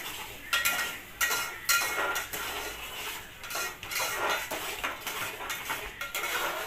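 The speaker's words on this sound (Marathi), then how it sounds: "आता आपण या मसाल्याला छान असं फ्राय करून घेऊया" Masala for stuffed brinjal is fried and stirred in a pan, a metal spoon scraping and clanking against the pan in uneven strokes over a constant sizzling background.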